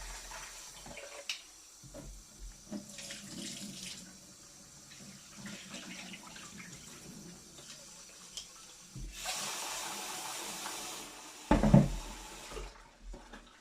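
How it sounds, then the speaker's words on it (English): Running warm tap water pours over dal lentils being washed in a kitchen, a steady soft splashing with brief louder gushes and clatter near the end, close and with no talk. "So first we have to wash the dal."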